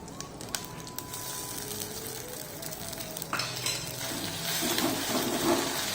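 Ground paste added to a pan for raw mango rice sautés with a close, crackling sizzle, growing louder toward the end with occasional stirring scrapes.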